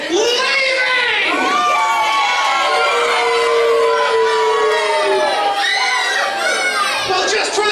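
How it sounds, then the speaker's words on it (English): Audience at a Hall of Fame induction ceremony cheering and shouting loudly, with high excited voices, children's shouts and whoops sustained throughout. "If you don't cheer for me, I'm leaving!"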